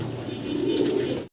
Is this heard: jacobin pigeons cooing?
yes